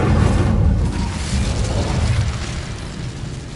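A fiery Incendio spell blast in Hogwarts Legacy roars out loud and close, a broad whooshing burst that sustains with rumbling crackle for several seconds before easing slightly.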